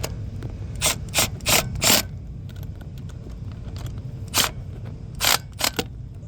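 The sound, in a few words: impact driver with 9/16 bit tightening nuts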